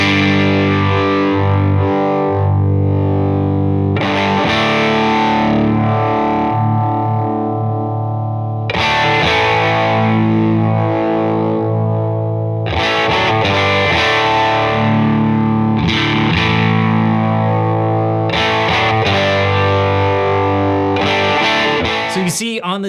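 Distorted electric guitar run through a Fairfield Circuitry Long Life pedal, played alone in loud sustained chords and phrases with a smoothed tone dip, steady and close with brief pauses between passages.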